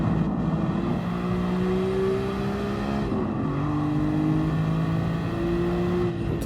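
Twin-turbo front-mounted engine of a 2002 Nissan GT-R R34, rear-wheel drive, in Gran Turismo Sport, droning steadily and loudly with shifting pitch through gear changes, no talk over it.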